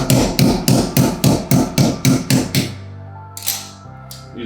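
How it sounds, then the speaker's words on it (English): A wrench hammer taps a soldered copper pipe in a steady series of about ten sharp metallic knocks, close and loud, followed by a pause and two or three more scattered taps. "Use my wrench hammer."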